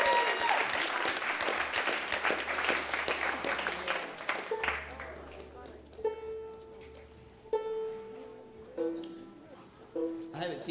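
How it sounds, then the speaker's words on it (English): An audience at a live stand-up comedy show in Fayetteville claps loudly and densely, the applause tapering off partway through as music and scattered sounds take over. "Y'all give JC another round of applause."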